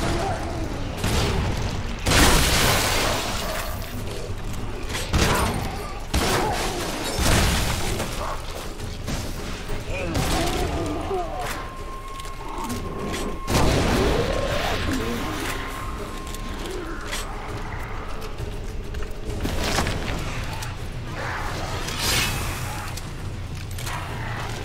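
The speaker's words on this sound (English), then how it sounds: "Just waste a shotgun shell on a skeleton." Shotgun blasts fired at a skeleton in the Shadow Warrior video game, several loud sharp booms spaced irregularly over a dense, noisy game soundscape with a speaking voice now and then.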